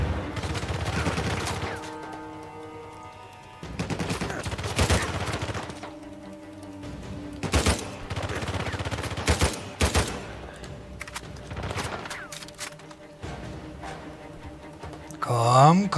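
Gunfire fills a gameplay session of Uncharted 4: A Thief's End, with repeated loud bursts and volleys of shots spread across the scene, plus occasional gasps and brief game sounds between them.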